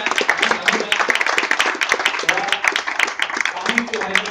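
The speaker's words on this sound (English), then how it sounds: "give a big round of applause to Satya and Anuradha" A seated audience at a chapter launch event in Hyderabad gives dense, steady applause, with many hands clapping close together for several seconds and no break in it.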